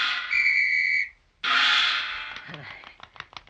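In a radio drama, a seal character blows a whistle in two sharp, loud blasts: a steady tone, a short silence, then a second blast trailing into clattering noises and chatter.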